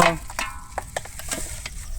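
Chicken frying in a pan outdoors: a close, busy sizzle with quick stirring clatter and several sharp spatula knocks against the pan over two seconds.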